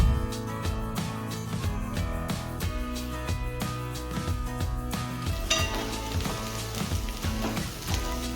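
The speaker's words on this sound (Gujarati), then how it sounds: "પહેલાં આપણે તેને ફ્રાય કરીશું અને થોડું ફ્રાય થઈ જાય એટલે આપણે તેમાં ડુંગળી એડ કરી દઈશું" Square-cut capsicum pieces sizzling in a pan, a steady bright frying hiss with scattered pops and scraping stirs, moderately loud and without talk.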